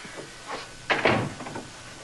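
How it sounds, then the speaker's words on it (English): A door is shut in a 1957 TV crime series, giving a single solid thump with a brief rattle after a faint handling sound, with no talk over it. "shut the door"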